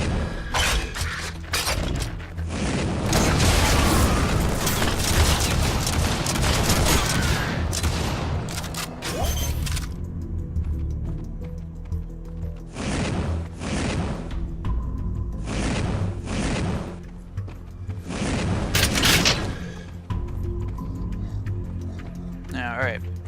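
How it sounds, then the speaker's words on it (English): Howitzer gun firing in the video game Revulsion: repeated heavy loud blasts with crashing debris, a dense barrage early on, then several separate bursts spaced apart. "Howitzer is a pretty fun gun."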